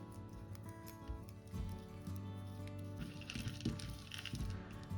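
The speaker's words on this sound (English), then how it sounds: "then you take your scissor and cut" Scissors cut thread while a handle is attached to a beaded bag: a couple of soft, close snips in a quiet room.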